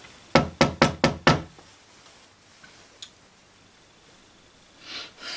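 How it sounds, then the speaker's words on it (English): Five firm knocks on a front door, struck in quick even succession, close and clear, then quiet room tone with a faint tap and some soft rustling afterward. "Someone was knocking on my door."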